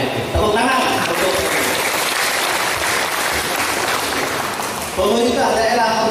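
Applause from an audience at a PBB community organisation gathering in Tangerang Regency, a dense broadband clatter of many hands that fills nearly the whole span at steady loudness, with faint voices at the edges.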